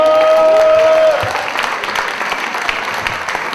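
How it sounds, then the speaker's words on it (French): Applause from an audience at a slam poetry event, dense clapping filling the room; a brief tone at the start fades and the clapping continues steadily. "On l'applaudit."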